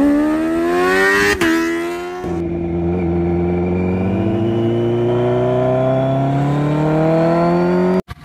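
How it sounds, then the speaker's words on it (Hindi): Kawasaki Z900 motorcycle engine being ridden on a cold evening, a loud, steady close-up drone with a rising pitch as it accelerates through the gears, with no talk over it. "तो गाइस अभी मैं चलाने वाला हूँ मुकुल भाई की Z900।"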